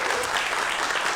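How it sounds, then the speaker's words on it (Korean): Steady audience applause at a Korean science talk before a magic show, a brief uniform wash of many hands clapping with no speech over it. "박수 받고 시작해보죠"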